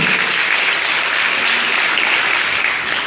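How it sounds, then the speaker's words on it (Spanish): A crowd at an outdoor church gathering in Jocoaitique, El Salvador, claps in steady, dense applause that stays loud throughout and tails off slightly at the end. "Un aplauso, barrio Concepción de Jocoaitique."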